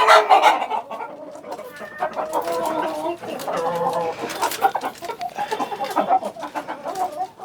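Layer hens on a poultry farm cluck and call almost nonstop, close and fairly loud, with several birds overlapping in busy, uneven bursts.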